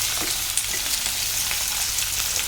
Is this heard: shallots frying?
yes